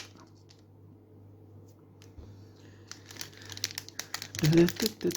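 Pokémon card booster pack wrapper being opened, crinkling foil plastic that starts faint and grows into loud close rustling and tearing at the end, with a voice speaking through it.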